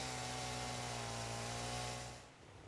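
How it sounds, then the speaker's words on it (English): A chainsaw whines steadily while cutting trees in the video game Satisfactory, a continuous buzzing engine drone with strong hum tones that fades slightly near the end. "Always fun to get the chainsaw the first time and start clearing out all of the really wonderful and beautiful sort of greenery"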